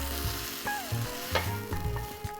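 Garlic stir-fried in a hot pan while cooking an abalone dish, with a continuous close sizzle and crackle plus scraping stirs throughout and no voices.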